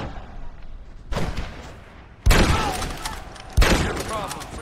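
Gunfire from the video game Red Dead Redemption rings out in loud bursts, with a first volley and then two heavier, booming salvos of overlapping shots and echoing thuds, mixed with faint voices.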